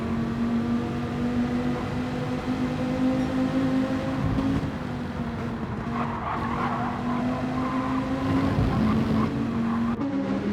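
Race cars in a racing video game at Fuji Speedway: a steady, loud drone of engines with sustained harmonic tones, tire squeal and skidding rising midway, continuous over about ten seconds with no voices.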